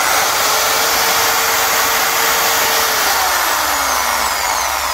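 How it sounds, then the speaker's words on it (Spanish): A drill driven hard from a portable solar battery gives a loud, continuous high-pitched whir that holds steady throughout, close up with no talk. "nos da para una hora taladrando"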